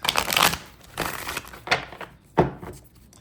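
Tarot cards are shuffled by hand in a few quick bursts, each a short papery riffle and slap, close and fairly loud with brief pauses between, and no talking.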